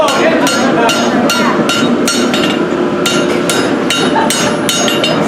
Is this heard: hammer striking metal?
yes